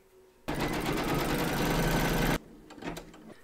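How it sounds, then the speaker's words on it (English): An embroidery machine stitches two fabrics to the hoop for a crazy patch quilt block, a loud continuous mechanical whir that starts suddenly, runs about two seconds and cuts off, leaving faint clicks afterward. "Pop your hoop into your machine and stitch round number 3"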